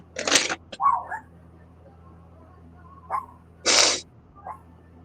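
Two sharp, loud human sneezes, clearly separated by a few seconds, each a short explosive burst, with small breathy sounds and faint murmurs between them in a quiet room.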